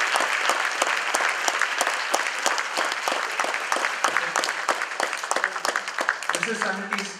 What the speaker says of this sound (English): Can we have a huge round of applause for all the Sanidhi dancers